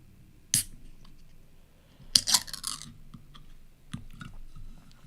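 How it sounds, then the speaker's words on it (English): A can of Once Upon a Coconut drink is opened: a sharp click, then a louder pop with a short fizzing hiss, followed by a few light taps and clinks nearby in a quiet room. "That's the sound of Once Upon a Coconut"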